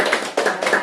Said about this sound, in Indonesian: Kita tepuk tangan dulu untuk penampilan dari rekan-rekan.